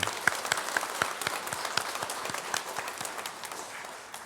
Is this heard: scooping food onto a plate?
no